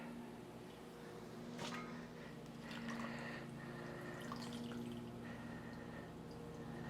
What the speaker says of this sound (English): I'm draining the peaches before I actually put them in the pot because they're in that acidic water